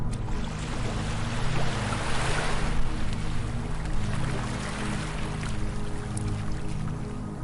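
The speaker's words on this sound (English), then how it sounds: "Negativity is replaced by the soothing sound of the ocean's waves." Ocean waves wash onto a beach, a loud, continuous rushing surge of water that swells and eases slightly, with a low steady hum beneath and no voices.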